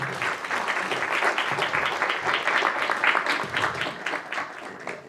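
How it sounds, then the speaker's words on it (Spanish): An audience at a talk on an autumn day greets a guest speaker with sustained, dense applause, a steady wash of many hands clapping that continues throughout. "les pido un fuerte aplauso para que recibir a Maya"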